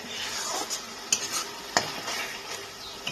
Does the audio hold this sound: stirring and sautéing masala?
yes